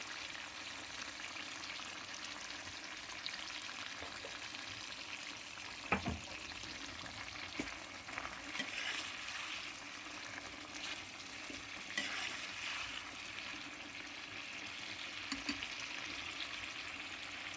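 Tomatoes with turmeric and salt fry in a pan for tomato pachadi, a soft continuous sizzle broken by scraping stirs and a few sharper knocks of the spoon against the pan, close by and without talking.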